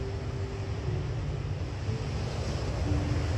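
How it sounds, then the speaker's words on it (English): Ocean waves at a beach rumble as a continuous low wash with gusty wind buffeting the microphone, steady and fairly loud, with no voices. "Listen to the waves and relax into your beach chair or your towel in the sand."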